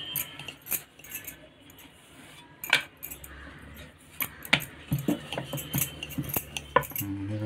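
Knife tip tapping and scraping through rolled wheat-flour dough for chakri shankarpali on a board, a run of sharp, close clicks and taps at an uneven pace, a few louder knocks among them, with no talk.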